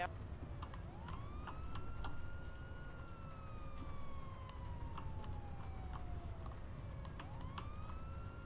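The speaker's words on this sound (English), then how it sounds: "can we please get those sirens off?" Emergency vehicle sirens in FiveM, a GTA V roleplay game, wail in long rising and falling sweeps at steady moderate level, with a constant tone underneath and scattered ticking clicks throughout.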